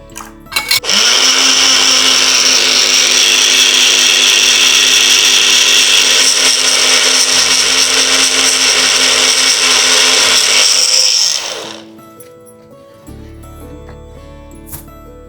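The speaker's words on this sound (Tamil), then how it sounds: "கொஞ்சம் தண்ணி விட்டு அரைச்சிடலாம்." Electric kitchen mixer grinder blending long pepper, alum, buttermilk and water, running loud and steady for about eleven seconds with a high whine, then winding down and stopping, leaving quiet room sound.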